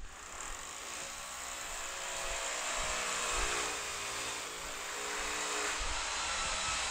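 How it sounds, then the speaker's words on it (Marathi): A drill machine runs steadily at a house construction site, a continuous whirring mechanical drone held at fairly even loudness throughout, with faint low thumps and no talk. "सो तुमकां न्हय मशिनाचो आवाज येतलो. ड्रील मशीन चालू आसा."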